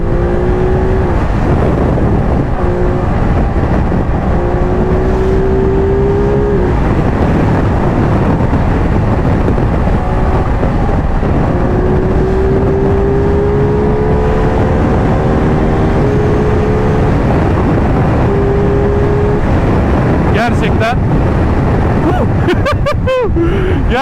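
A Ducati Multistrada V2S motorcycle cruising on a highway makes a steady, loud engine drone heavily buffeted by wind roar, with a few shifts in engine pitch as it holds speed.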